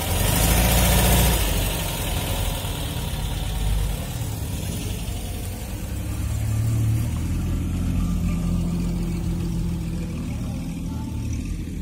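A Volkswagen Beetle, an older car at a vintage vehicle show, idles steadily with a low, continuous engine rumble that stays fairly loud and even throughout, with outdoor show ambience around it.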